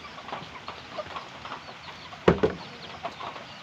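A flock of chickens clucks steadily nearby during feeding, with one louder sharp call standing out partway through, no talking.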